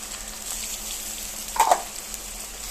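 Crushed garlic goes into a pan where onion, turmeric and ginger are already frying. It gives a soft, steady sizzle, with a brief clattering stir midway.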